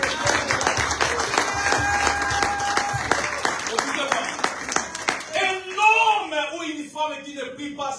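A church congregation bursts into applause and cheers during a sermon on fervent prayer, dense clapping with voices over it, then trailing off as a preacher speaks.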